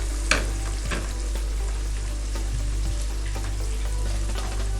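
Two large tomatoes fry with masala in a pan for dhaba-style chana dal, a continuous close sizzle and crackle over a low steady hum, with a few sharp spoon taps and stirring scrapes.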